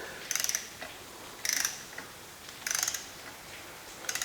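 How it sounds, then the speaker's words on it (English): A wrench ratchets as it tightens a bolt on a Porsche 911SC crankshaft assembly, in three or four short clicking bursts, close and fairly quiet, with pauses between them. "Probably could use a smaller wrench to do this"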